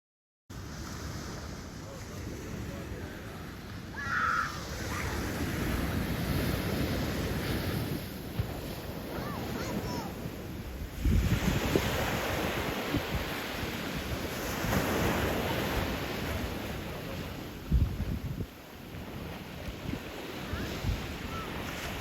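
Ocean waves and surf breaking at a beach, a steady broadband wash with repeated swells rising and falling, mixed with wind buffeting the microphone throughout, no voices.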